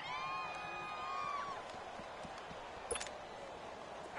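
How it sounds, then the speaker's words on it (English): Crowd noise fills a domed stadium in a football video game, a distant steady roar with a brief cheer or whistle partway through. "The crowd here in the dome making things difficult."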